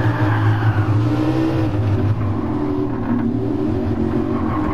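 A Lamborghini Huracan V10 5.2 40V FSI in Gran Turismo 7 revs hard, its deep layered engine tone rising and falling continuously, loud and close, with no talk.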